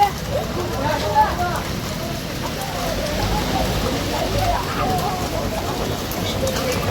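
Steady rain pours down outdoors in a Gujarati village, a continuous broadband hiss with faint scattered splashes, close and fairly loud throughout.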